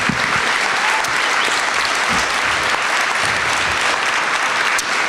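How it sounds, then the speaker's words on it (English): Loud, sustained applause from a large crowd at the 2018 BBB Eclipse Integrity Awards, dense clapping that holds steady throughout. "let's give one more big round of applause to all of our winners"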